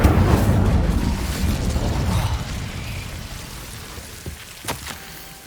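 An Incendio fire spell goes off in Hogwarts Legacy, a loud whooshing burst of flame that slowly fades away, followed near the end by a few small pops.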